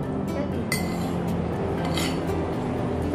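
Fried noodles being stirred in a pan, with scattered metallic clinks and scrapes of utensil against cookware over a steady background hum.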